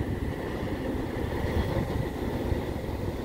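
CN intermodal freight train slowing near Montmagney, Quebec, a steady low rumble of rolling wagons with faint rail clatter, continuous and fairly close, no voices.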